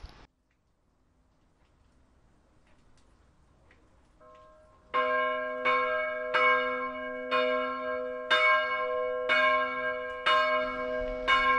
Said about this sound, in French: je vous passe un extrait d'une cloche qui sonne en rétro-lancé